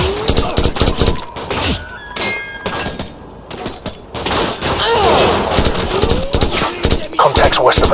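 Gunfire rattles in Call of Duty 4: Modern Warfare as a loud, dense fusillade of repeated shots and bursts that runs almost the whole time. Soldiers shout and give orders over it.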